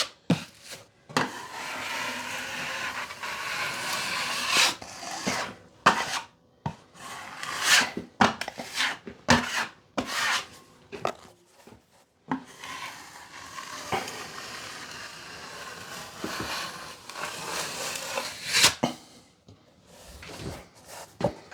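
A drywall knife scrapes and smooths joint compound over screw spots on drywall, giving close, uneven scraping strokes with short pauses between passes. No one speaks.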